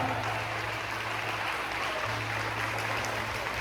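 A church congregation claps together in sustained applause, a dense, loud, even patter of many hands filling the room, with a low organ or keyboard tone held underneath.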